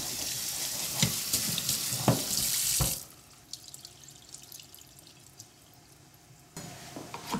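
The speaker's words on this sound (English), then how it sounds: "let's go ahead and rinse the mushrooms" Mushrooms rinsed under a running kitchen tap, a loud rushing stream for about three seconds, then a quiet pause with small handling clicks before the water starts again.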